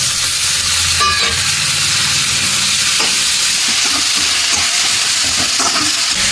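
Tomatoes sauté in a pan for a jackfruit stir-fry (palakkai poriyal), giving a continuous loud sizzle broken by occasional clinks and scrapes of stirring.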